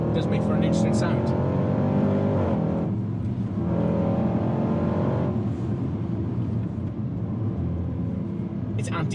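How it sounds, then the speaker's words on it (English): A 2018 Range Rover Sport SVR with a 575 horsepower engine revs its loud exhaust in rising and falling swells, rumbling close by throughout with crackles and pops breaking in near the end. "It's antisocial, it's loud, it cracks, it bangs, it's everything I love in a car."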